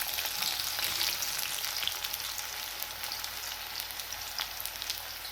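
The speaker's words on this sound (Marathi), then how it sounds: "इकडे कढाईमध्ये तेल गरम झालं आहे, तर आपल्याला कांदा तळून घ्यायचा आहे" Onion frying in hot oil in a kadhai, a steady, dense crackling sizzle with fine popping, close and fairly quiet, no talking.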